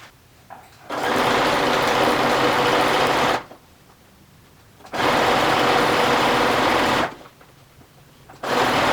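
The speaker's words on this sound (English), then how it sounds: "we're just going to zip this through the sewing machine" A sewing machine stitches a long seam on a fabric strap for a round storage basket, running in two steady buzzing bursts of about two and a half seconds each with quiet pauses between, close and alone.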